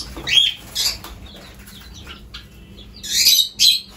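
Pet lovebirds in a colony flutter in to feed: bursts of wingbeats and sharp squawks and chirps, close and fairly loud, in two clusters with quieter rustling between.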